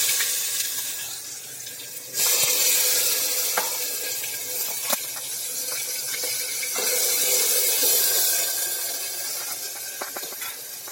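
Chopped brinjal drops into hot oil seasoned with mustard seeds, cumin and asafoetida, letting out a loud, steady hiss that swells suddenly and then sizzles on for several seconds.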